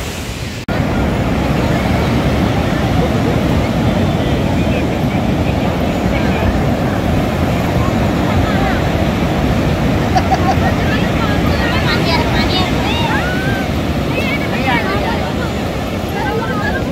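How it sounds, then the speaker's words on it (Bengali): On Puri beach, rough sea and strong wind make a loud, continuous roar and rush for the whole stretch, with some faint voices and background chatter mixed in under it. "এই যে পেছনে দেখো পুরো সমুদ্র তোলপাড় হচ্ছে একদম, আর হাওয়াও চলছে দুর্দান্ত।"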